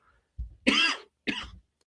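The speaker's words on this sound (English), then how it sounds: "So I got a cough going on. It's dry." Two or three harsh, dry coughs close to the microphone, separated by short pauses in an otherwise quiet room.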